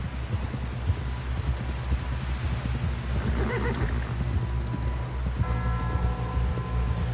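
A horse in a video game gives a clear whinny midway through, set against a steady bed of hoofbeats and low rumbling ambience.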